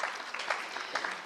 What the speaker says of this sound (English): Clap for Hosea.